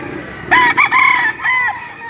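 A restless chicken lets out a short, loud, close burst of clucking squawks in two or three quick phrases, alone with no talking.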